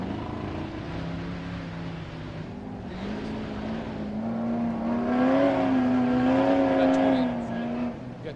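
Limited-class drift cars at a KMC Battle in the Bluegrass event at Dirty Turtle Bedford, engines droning and revving steadily, rising louder toward the end with a sustained harmonic whine, a crowd murmur underneath.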